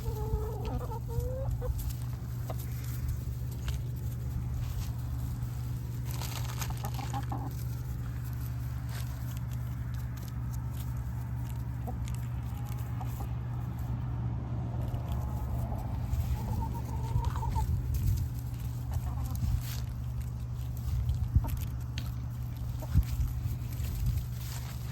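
Easter egger chickens cluck and murmur near the camera over a steady low background hum, with scattered sharper calls throughout and no one talking.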